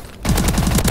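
Machine gun fire in Call of Duty Advanced Warfare, a loud, close, very fast automatic burst with evenly spaced rapid shots following a brief quieter lead-in.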